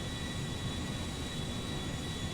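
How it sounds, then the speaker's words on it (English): Airbus A340-300 jet in GTA 5 rolling down the runway under takeoff power, a steady, loud broadband engine roar with a low rumble that stays constant throughout, no voices. "We are ready for takeoff. Add that power. We are rolling."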